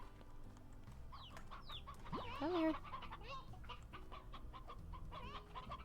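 An Elder Hen chicken clucks and squawks in the farming game Slime Rancher, a few nearby cackling calls rising in the middle over quiet game ambience, with a brief spoken word.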